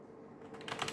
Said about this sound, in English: I'm just gonna type in 78 record.